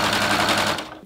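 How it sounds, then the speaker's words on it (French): A Husqvarna Viking Amber S 100 serger stitches through three layers of fleece in a fast, steady mechanical whir and rattle, loud and close, running briefly before tapering off. "Au démarrage, rien à dire, la surjeteuse va très bien."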